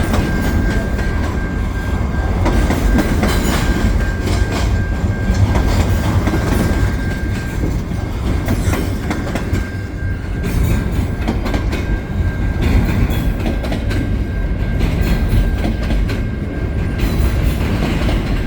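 Winter CN stack and mixed freight trains roll past at St Henri near St Ambroise, a loud, continuous rumble with steady clickety-clack of wheels over rail joints.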